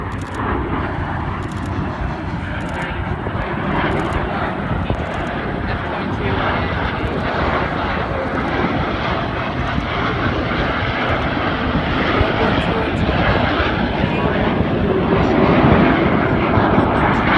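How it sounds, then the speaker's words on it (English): United States Air Force F-22 Raptor and F-35 jets fly over the Cleveland National Airshow in 2016, a loud continuous roar of jet engines filling the air throughout, with a voice likely speaking over it. "United States Air Force F-22 Raptor"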